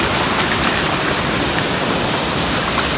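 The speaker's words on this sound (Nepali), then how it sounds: "एकदम बवाल छ झर्ना चाहिँ देख्न सक्नुहुन्छ" A waterfall roars as a loud, constant broadband rush of falling water that stays even and unbroken from start to finish.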